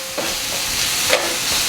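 Cheesesteak filling sizzles steadily in a frying pan, a continuous hiss with faint stirring taps, close and moderately loud with no talk.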